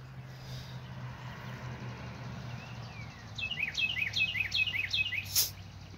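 After a quiet stretch of low hum, a baby chick gives a quick series of five or six bright, sharp chirps, close and clear, ending in a brief squeak.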